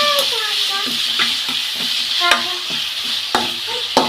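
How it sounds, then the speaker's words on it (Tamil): Rice sautéed in hot oil sizzles steadily as a utensil scrapes and stirs it in a pan, with repeated clinks of the spoon against the vessel over a constant frying hiss. "தண்ணி எல்லாம் ஊற்றக்கூடாதுங்க நல்லா எண்ணெயிலே தான் நல்லா வதங்கணும்"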